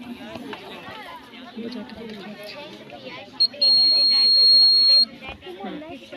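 A fire alert sensor science model at a school science exhibition sounds its buzzer, a loud steady high-pitched tone lasting about a second and a half, over the constant chatter and babble of a crowded hall.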